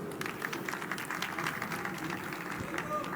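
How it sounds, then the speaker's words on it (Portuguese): An audience at an innovation event applauds for a volunteer, with a steady wash of clapping throughout and a murmur of crowd voices mixed in. "Uma salva de palmas para o Pedro."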